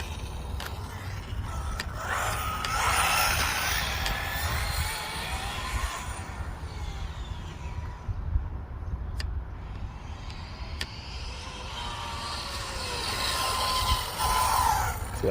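An Arrma Typhon 6S V5 RC car with an earplugged center diff drives past, its electric motor whining and rising and falling under steady tire and road rumble, fading away midway and then coming back close and loud.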